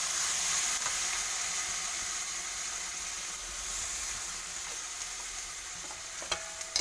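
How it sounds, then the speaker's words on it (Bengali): Pumpkin stew cooking in a pan with fish scales as water goes in, a steady broad sizzling hiss with stirring texture running throughout, close and fairly loud, with a couple of sharper clicks near the end. "আর উপর দিক দিয়ে আমি জল ঢেলে দেবো"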